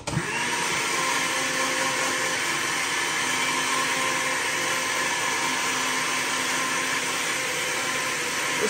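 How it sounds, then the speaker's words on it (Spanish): A blender whirs loudly and continuously at close range, a steady high-pitched motor drone with no pauses or talking. "Vamos a la batidora."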